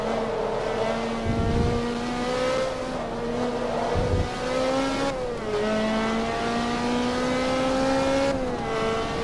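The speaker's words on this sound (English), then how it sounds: "We're keeping this Ferrari under control." A Ferrari F430 Challenge engine in Forza Motorsport 2, a loud, steady high-revving race-car wail with rising pitch through the gears and short dips at each shift, heard continuously throughout.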